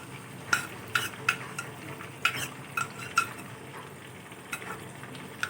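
Chicken frying with ginger garlic paste in a karahi over a medium flame, a steady low sizzle broken by repeated sharp scrapes and clinks of a spoon stirring against the pan.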